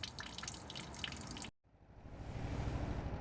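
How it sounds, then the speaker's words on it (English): Water drains from a camper van, with close, splashy drips and trickles that cut out abruptly for a moment and then return as a steadier, rushing pour. "drain a bucket load of water out of our van"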